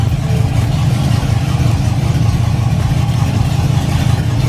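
A Jeep Grand Wagoneer with a swapped-in LS V8 runs steadily at idle, loud and close, a dense continuous low rumble with no pauses and no talking.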